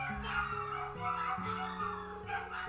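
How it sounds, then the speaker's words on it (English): Several dogs barking and yipping excitedly in the background, steady and continuous throughout, with a low tonal hum underneath. "I'm sure you guys heard my dogs going crazy"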